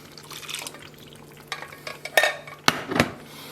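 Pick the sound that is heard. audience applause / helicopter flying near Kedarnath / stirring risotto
stirring risotto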